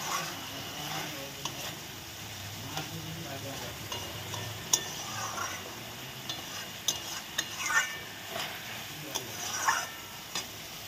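Spice paste for pabda fish curry is stirred and fried in a pan: a steady close sizzle with repeated soft scraping strokes and occasional utensil clicks throughout, no voices.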